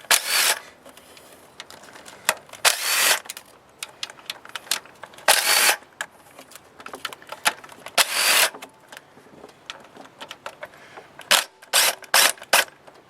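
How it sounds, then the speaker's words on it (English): Fasteners being removed from the valve cover of a 2011 Nissan Altima 2.5 SL, close intermittent ratcheting and clicking bursts of tool and metal, separated by short pauses. "I'm just taking the fasteners out of the"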